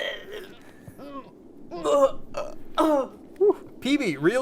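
A voice makes strained, gurgling hacks and retching coughs in short bursts, with groaning pitch swoops between them.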